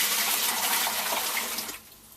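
Sweet wort from a home pale ale brew pours back into the boiler as a loud, steady rushing splash that stops abruptly near the end.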